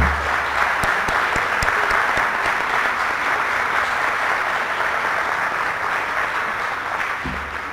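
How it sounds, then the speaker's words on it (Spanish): Audience applause at a Latin American futures forum, a full room clapping steadily and loudly, dense and sustained before tapering slightly near the end. "Al presidente CEPLAN, un aplauso."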